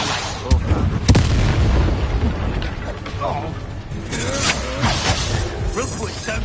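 Explosive Bombarda and Confringo spells in Hogwarts Legacy combat: several sharp blasts and cracks, one big impact near the start, amid clattering battle noise and voices.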